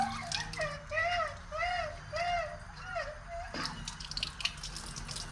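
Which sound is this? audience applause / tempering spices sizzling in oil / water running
water running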